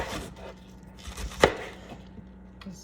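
A knife chops food on a board for a vegan meatloaf meal, a few soft, close knocks with one sharper cut near the middle, quiet and spaced apart, no talk.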